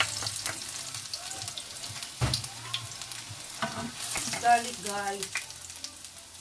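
Garlic frying in a pan for chicken stir fry rice, a continuous sizzle with stirring scrapes and clinks, while a voice speaks briefly over it.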